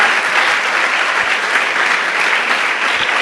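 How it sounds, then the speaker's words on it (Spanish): A church congregation at a Spanish-language sermon applauds in a steady, dense burst of clapping that holds at full loudness without pause. "dale un aplauso al Señor"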